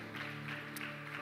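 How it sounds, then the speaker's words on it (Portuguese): Church congregation applauding during a Portuguese-language worship service, a steady wash of clapping under a sustained organ or keyboard chord. "Você que crê, aplauda ao Senhor"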